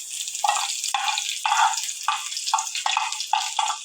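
Round red chillies dropped into hot ghee with browned ginger for a tadka, giving a steady bright sizzle broken by repeated crackling bursts every half second or so, close and loud with no talk.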